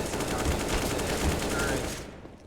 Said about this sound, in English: Sidodo with another kill for himself with the AK there at Cave.